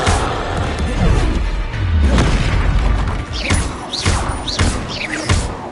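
Confringo blasting-curse explosions in Hogwarts Legacy, a run of loud booming blasts and thuds in quick succession, with a voice shouting spell names between them.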